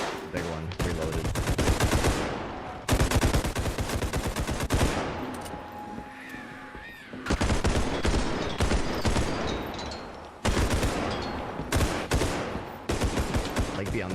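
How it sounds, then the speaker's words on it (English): Gunfire in the video game Bodycam, dense rapid bursts of automatic shots in long volleys with brief lulls, loud and close. "I'm like coloring his body with bullets"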